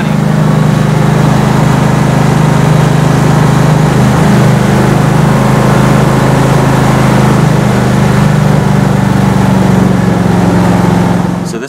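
An Ariens hydrostatic riding lawnmower idles on choke with a loud, steady engine drone close to the microphone. The low rumble runs without a break for the whole stretch, with no talk over it.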